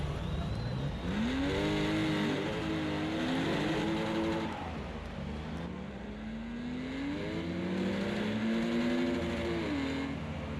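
Race car engine in a racing video game with a mechanical problem when shifting gears, a loud, continuous engine drone that rises and falls in pitch as it revs and shifts, sustained throughout.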